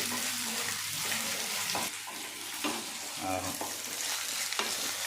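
Ginger and garlic sizzle and fry steadily in a pan of hot oil as the base for an egg curry, with occasional stirring scrapes breaking through the continuous crackle.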